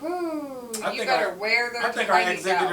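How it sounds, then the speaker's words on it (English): A cat gives a rising, drawn-out meow at the start, close and clear, before people start talking over the rest of the moment. "That's a cat."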